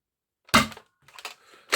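A Recon CS6 airsoft gun fires two sharp, close, loud shots separated by about a second, with quieter mechanical rattling between them in an otherwise silent setting.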